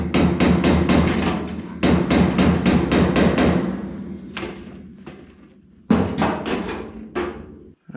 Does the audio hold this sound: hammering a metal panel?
yes